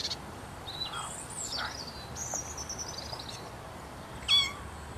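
Thin, high kitten meows, several short cries spread across a quiet background, with one brief louder squeak near the end.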